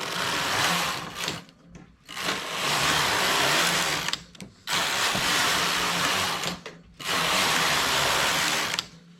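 A domestic knitting machine knits an open stitch with a single strand of white wool yarn. Four loud, close, sustained whirring sweeps of the carriage are separated by short quiet gaps, with no talk.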